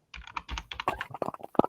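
A computer keyboard clatters close up with a quick, uneven run of keystrokes, a few louder taps near the end, and no voices.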